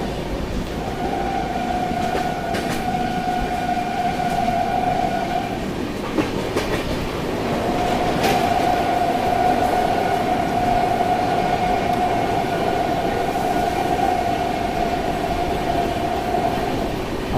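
Jharkhand Sampark Kranti express train running at night, heard from inside the coach: a steady loud rumble and rattle of rolling wagons with a sustained high wheel whine that drops out briefly, then returns.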